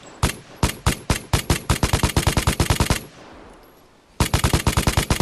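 A light machine gun fires in the game Vigor: two long, rapid automatic bursts of loud, sharp, evenly spaced shots, close and punchy, separated by a short pause with a fading tail, with no talking.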